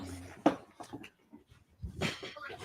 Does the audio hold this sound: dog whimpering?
yes